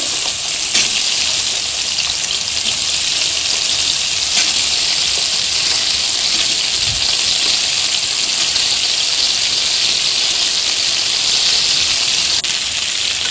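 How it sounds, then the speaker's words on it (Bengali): Cut potatoes and elephant foot yam fry in oil left over from frying hilsa fish, with a loud, even sizzle that runs unbroken throughout. "সেই ভাজা তেলের মধ্যে কেটে রাখা আলু এবং ওলটাকে অ্যাড করলাম"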